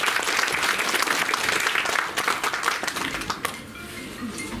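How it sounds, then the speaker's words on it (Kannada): An audience claps at a preschool's first anniversary celebration, steady and fairly loud at first, then thinning out and fading toward the end. "ಒಂದು ಚಪ್ಪಾಳೆಯನ್ನು ತಗೊಳ್ಳಿ."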